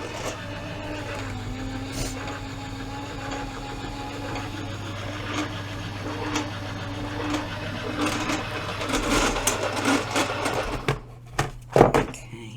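A die-cutting machine runs steadily as it embosses and cuts cardstock during card making, a constant motor-like hum with clicks and thumps building toward the end.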